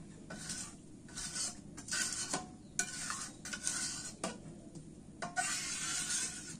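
Beef tripe cooks in a pan while water boils off, a quiet background sizzle broken by repeated scraping and stirring strokes of a spatula against the metal.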